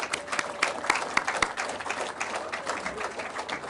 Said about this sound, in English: Would all those seated please give a huge round of applause for everyone standing?